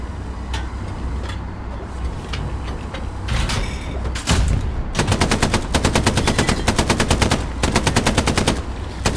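Gunfire in the tank combat game Hell Let Loose: scattered single shots give way to long, loud, rapid machine-gun bursts that rattle on almost without pause, over a low rumbling battlefield background.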